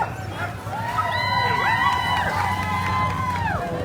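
Spectators cheer loudly and steadily at the start of the Fur Rondy 2022 Open Class World Championship sled dog race on 4th Avenue. Excited dogs yip and howl through the crowd noise, and a voice can be heard.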